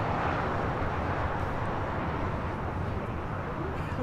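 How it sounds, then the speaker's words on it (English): Alaska Airlines Boeing 737 MAX 9 taking off from LAX, a steady broadband jet roar filling the whole clip at constant loudness, heard from a distance without a clear rise or fade. "This is Alaska Airlines 1315 taking off to Portland on a MAX 9."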